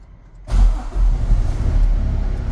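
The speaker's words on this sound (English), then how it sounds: "Start the truck." A truck engine with air brakes cranks and catches in neutral, then settles into a loud, steady rumbling idle close by.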